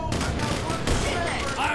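Gunfire from a zombie mod of the GTA 5 video game crackles in a dense, continuous fusillade, loud and close, with a sharper burst near the middle and faint voices mixed in.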